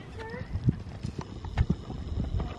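A horse trots out of a show ring, its hooves clip-clopping in a steady rhythm at mid distance, with faint voices in the background.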